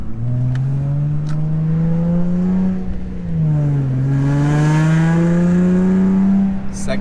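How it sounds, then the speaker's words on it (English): Infiniti G35 coupe with an aluminum one-piece driveshaft accelerating hard, engine droning and climbing steadily in pitch, dipping briefly at a shift before rising again, loud and close from inside the car. "I'm gonna gun it real quick, just a little bit."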